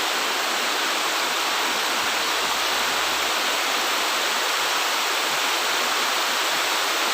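Heavy tropical rain pours steadily on an oil palm plantation during a fishing trip, a dense, loud, unbroken hiss with no pauses or voices.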